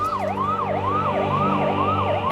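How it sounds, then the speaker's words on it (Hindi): An ambulance siren wails in a steady rising-and-falling cycle, loud and close, from a vehicle stuck in a heavy traffic jam, with a low engine and road hum underneath. "इस ट्रैफिक में तो ये एम्बुलेंस भी फंसी हुई है।"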